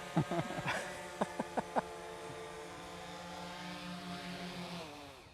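An MK32 drone descends and lands, its steady propeller buzz and hum droning throughout at moderate distance, with a few brief bursts of voices and clicks near the start before the motor tone shifts and winds down.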